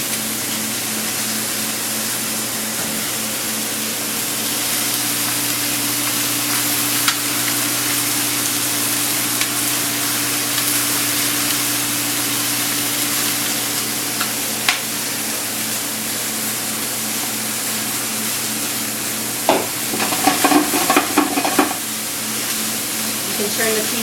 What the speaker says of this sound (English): Just let that sizzle for a moment.